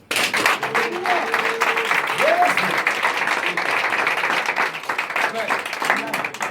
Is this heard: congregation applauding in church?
yes